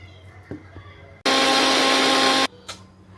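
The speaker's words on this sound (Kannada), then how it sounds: "ಮಿಕ್ಸಿಗೆ ಹಾಕೊಳ್ಳುವ, ಇದನ್ನು" Mixer grinder blending onion and spinach into a paste, a loud steady high-pitched whir that starts abruptly and runs about a second before cutting off, with faint kitchen clatter around it.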